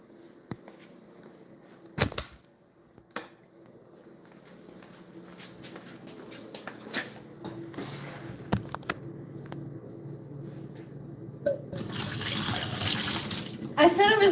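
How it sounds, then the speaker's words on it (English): Tap water running while a sea monkey tank's water is changed, a soft trickle growing into a louder steady gush near the end, with clunks, scattered knocks and a voice in the background. "Should I change the sea monkey tank water?"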